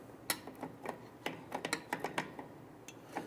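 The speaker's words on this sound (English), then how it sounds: "we're going to use a flathead screwdriver. And we want to go ahead and rotate this wheel here." A flathead screwdriver turns the star-wheel adjuster on the rear drum brake of a 2000-2006 Toyota Tundra, giving a run of close, quiet metallic clicks and ratcheting ticks at an uneven pace.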